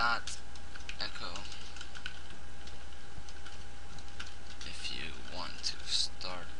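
Rapid, uneven keystrokes clatter on a nearby computer keyboard while writing a text-based adventure game in Notepad, running steadily throughout under a constant faint hum, with a voice talking over the typing.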